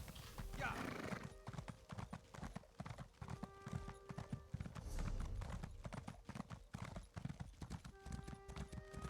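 Horse hooves clip-clopping in a steady rhythm in The Elder Scrolls Online, with a horse neighing and a person talking over it; game music tones sound in the background.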